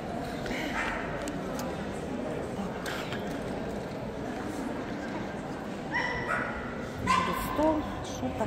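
Bichon Frise dogs being prepared for a dog show ring yip and whimper, with a few sharper cries near the end, over a busy background with some talk.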